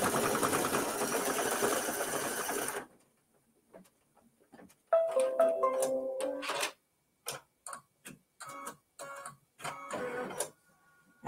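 An embroidery sewing machine stitches in short bursts of rapid mechanical ticking and whirring, close and moderately loud, after a stretch of other noise and a brief pause, with gaps between runs.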